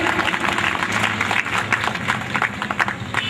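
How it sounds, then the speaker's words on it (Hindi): Audience applause at an award ceremony, a dense steady patter of many hands clapping at close range, lasting the whole moment without pause. "एक बार जोरदार तालियां।"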